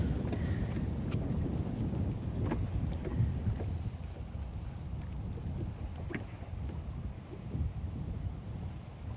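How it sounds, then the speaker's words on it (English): Wind buffets the microphone outdoors on the water during a bass fishing trip, a constant low rumbling roar with uneven gusts and a few faint knocks, no voices. "That wind is really making me mad."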